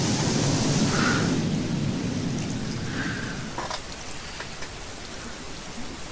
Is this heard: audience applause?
no